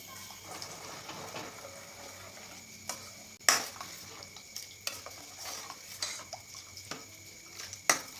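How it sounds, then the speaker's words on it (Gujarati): Curry leaves and salt are stirred in a pan of a yogurt-based potato curry, with a spoon scraping and tapping the metal in irregular clinks over a faint simmering sizzle, close and alone. "થોડા કઢી પત્તા સ્વાદ પ્રમાણે મીઠું ફેરવી લઈએ"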